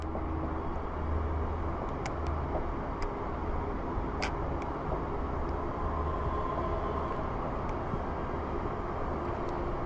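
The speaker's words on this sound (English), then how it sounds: "Oh, another train." A train passes at a distance in a Scottish town, a steady low rumble with occasional faint metallic clicks and squeaks, heard without talk.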